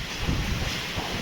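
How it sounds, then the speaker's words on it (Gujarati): A strong windstorm at night, around 2:30 with rain, roars as a loud, continuous buffeting rush that batters the microphone, with no voices. "એટલો જોશથી પવન ફેંકાઈ રહ્યો છે."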